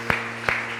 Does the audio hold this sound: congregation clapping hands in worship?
yes